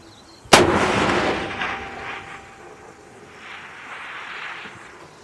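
A single big-calibre rifle shot fired at a 1,000 metre target cracks sharply and loudly outdoors, followed by a long rolling echo that slowly fades across open ground.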